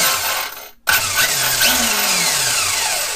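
An RC car's electric motor, driven through an ESC, whirs up after a brief silent gap and then keeps running with a steady, close mechanical drone. Pitch rises and falls slightly as the throttle changes.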